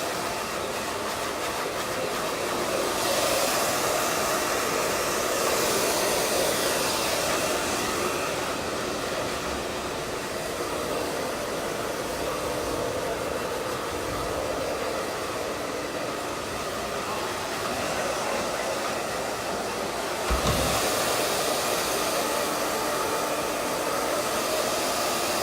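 A hair dryer blow-drying long layered hair during a haircut, a loud steady close roar running throughout with slight shifts in tone as it moves.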